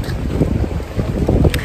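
Steady wind rushing and buffeting against the microphone, with a low rumble and gusts rising and falling throughout.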